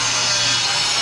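A hand saw cuts steadily through a board of home-grown lumber, trimming it to rough length for a large coffee table; the close, continuous rasping strokes fill the whole moment with no talking.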